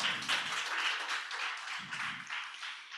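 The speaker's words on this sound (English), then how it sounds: "So a round of applause for Ratri." Light applause at an online vocational education event, a soft, diffuse patter of clapping, faint and steady throughout, with a few low thumps mixed in.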